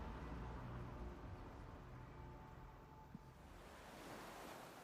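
Sea waves rolling gently onto the shore, a faint, continuous surf wash with soft swells and light wind, no voices.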